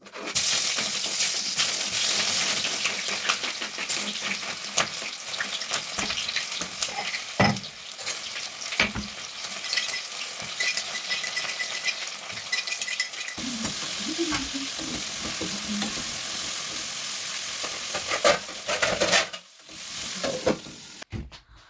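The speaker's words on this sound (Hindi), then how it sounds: "तो चलो फिर तड़का लगा देते हैं आप सब्जी में" Steady, loud sizzling of spices tempering in hot oil in a pan with occasional stirring scrapes and clinks, continuing throughout with no talking.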